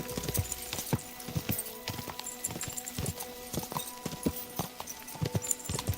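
Horse hooves clip-clop in a steady galloping rhythm in the video game Kingdom Come Deliverance II, close and moderately loud, with occasional snorts and a faint voice urging the horse on.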